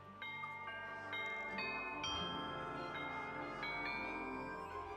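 A doorbell in the video game Tangle Tower plays a short chime melody, bright xylophone-like notes rising in several steps over soft game music.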